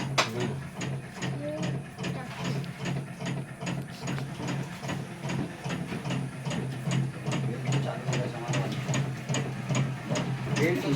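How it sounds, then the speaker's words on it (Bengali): A batasa sugar-candy making machine runs with its belt going, producing a continuous rapid mechanical clatter of ratcheting, gear-like clicks in an even rhythm, close and steady throughout. "বেল্ট চালু হয়ে গেছে, বেল্ট চালু হয়ে গেছে, বেল্ট চালু হয়ে গেছে।"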